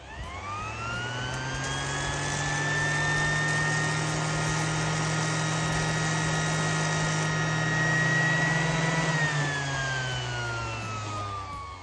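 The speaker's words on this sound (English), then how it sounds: "like an orbital sander or something like this" An orbital sander roughing up a plastic plumbing pipe for a reef tank sump, a loud, steady motor whine with a droning hum that rises slightly in pitch and holds without a break, alone.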